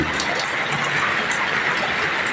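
Continuous heavy rain pours down steadily around a house during Typhoon Uwan, a dense unbroken hiss with no gaps.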